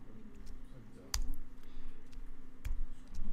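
Two sharp, distinct key clicks from a computer keyboard, an Enter key struck about a second and a half apart, close and crisp over a low room hum.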